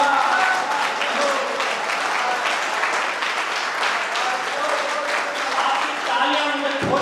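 Dense, sustained clapping from a large audience at a Hindi heroic-verse poetry gathering in Rajsamand, loud and steady for the full stretch with no pause.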